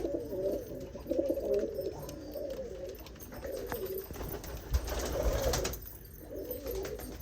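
Several pigeons coo repeatedly in a loft where a hen sits on her eggs, soft overlapping calls rising and falling over a steady low rumble of background noise, with no voices.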